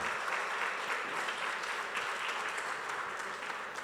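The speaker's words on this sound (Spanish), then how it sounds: "Vamos a recibir ahora sí con un fuerte aplauso" A church congregation gives a dense, sustained round of applause to welcome the kids. The clapping is even and moderately distant, with no voices heard above it.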